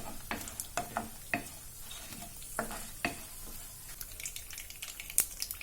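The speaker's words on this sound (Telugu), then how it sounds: "1 స్పూన్ పచ్చిశనగపప్పు వీటన్నింటినీ వేసి బాగా వేయించుకోవాలి." Chana dal and dried red chillies sizzle in a pan, a quiet steady crackle with repeated sharp clacks and scrapes as the spoon stirs, and no one speaks.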